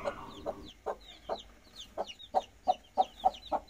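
Backyard chickens kept for laying eggs, giving a steady series of short, fairly close clucks in an even rhythm, with faint higher bird chirps behind them and no voices.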